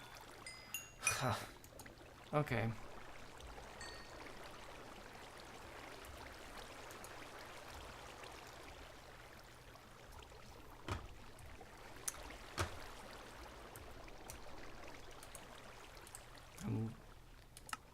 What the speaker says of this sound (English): Alright, now the water's on.